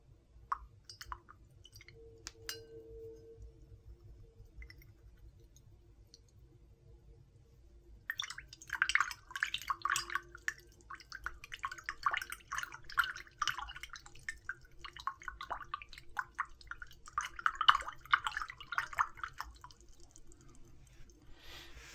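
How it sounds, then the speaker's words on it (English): A paint brush used for face painting is washed in water, with soft sloshing, dripping and squishing strokes that start after a quiet opening and continue steadily, close and gentle. "I'm gonna wash this brush out"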